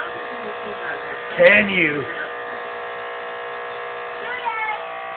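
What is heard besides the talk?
TV making loud buzzing noise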